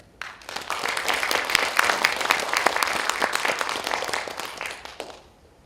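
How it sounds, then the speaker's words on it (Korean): An audience at the 2021 Yakcheon Nam Gu-man literary festival in Yongin claps for new poet Choi Ji-han receiving a newcomer award, a lively burst of many hands that swells, holds, then tapers off. "우리 최지한 시인한테 박수 한번 주십시오."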